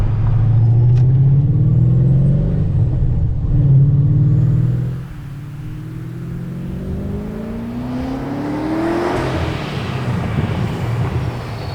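Procharged Ford Mustang engine roaring loudly under a hard pull. The deep drone holds steady, then drops off briefly and climbs again in a rising revving sweep. It is close and continuous, with no talking.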